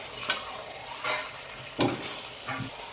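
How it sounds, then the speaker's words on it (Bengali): Meat for kosha being stirred and fried in a pot, with a few distinct scraping strokes of a spoon against the pan over a soft continuous sizzle, close and fairly loud, no talking. "ঢাকনাটা খুলে একটু নাড়াচাড়া দিয়ে দেবো।"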